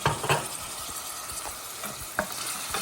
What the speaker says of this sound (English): here's the ground beef simmering